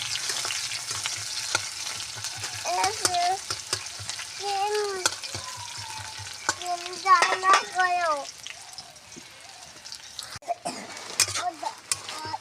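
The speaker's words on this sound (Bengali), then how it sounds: "পেঁয়াজটা আমরা হালকা করে ভালোভাবে ভাজবো।" Sliced onions fry lightly in a pan for an egg curry, giving a steady close sizzle with occasional stirring scrapes. A voice talks over the frying for most of the time.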